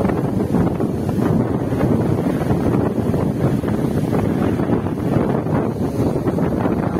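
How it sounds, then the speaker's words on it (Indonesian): Strong wind blasts across the open water of Jatiluhur reservoir where people are fishing, a loud, constant roar buffeting the microphone with a deep rumble and no pauses. "Ngeri, anginnya ngeri, kencang sekali."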